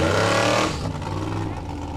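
A Formula Offroad car reverses at an Icelandic offroad event in Blönduós, its engine a loud, steady near rumble that eases off after a moment.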